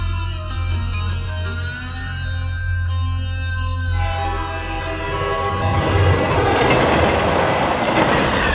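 A passenger train runs along the rails with a steady rumbling roar and a sustained whine, building toward louder rattling clatter as it nears.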